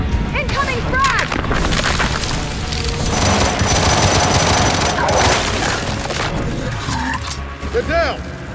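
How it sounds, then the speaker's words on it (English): A frag grenade explodes amid rapid bursts of gunfire in the video game Gears 5, a dense, loud barrage with booms and combat chatter, while voices shout over the fighting. "Incoming frag!"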